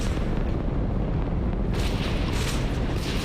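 Gunfire and explosive blasts in the sci-fi shooter Starfield, a dense rumbling barrage with heavy low booms and sharper bursts toward the end, loud and continuous with no talk.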